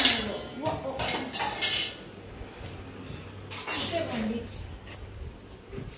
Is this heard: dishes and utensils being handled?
yes